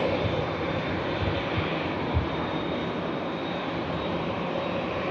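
An Isle of Man liveried ATR turboprop arrives at Manchester Airport with a steady, moderate propeller-engine drone, even and continuous, with a faint thump or two underneath.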